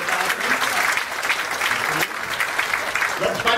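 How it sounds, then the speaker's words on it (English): A show audience applauds couples married over fifty years, with steady clapping throughout and voices and a few cheers mixed in beneath it. "Give a round of applause over there."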